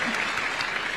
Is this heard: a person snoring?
no